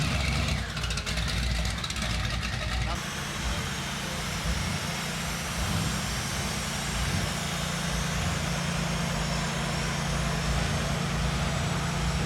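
A show car with a large ProCharger supercharger driving slowly into an indoor car show, a steady loud engine rumble and drone throughout, after a brief burst of higher noise at the start.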